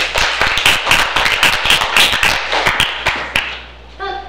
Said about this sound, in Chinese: 谢谢两位掌声鼓励